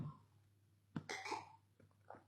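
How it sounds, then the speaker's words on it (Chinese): A man recovering from COVID who has a persistent cough with phlegm coughs once or twice, short and fairly close, amid a quiet room with low background hum. "咳嗽，有痰，这就是现在的症状。"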